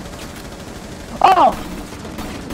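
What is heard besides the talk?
gunfire in the video game Rainbow Six Siege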